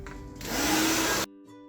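A handheld hair dryer blows steadily on sopping wet hair after a short rinse, a loud broadband whoosh that swells and holds for about a second, then cuts off abruptly, leaving only faint low background hum.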